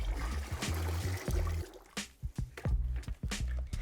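A gallon of water is poured into a bucket of lime wash being mixed, giving splashing, trickling and gurgling pours with knocks and clunks of the bucket, fairly close and quiet.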